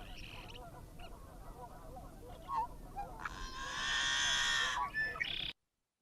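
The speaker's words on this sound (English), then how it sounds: "The yellow-headed blackbird," A yellow-headed blackbird gives a harsh, buzzy call: a short rasping note, then a long grating buzz lasting over a second. It is fairly close and clear over a murmuring, noisy background.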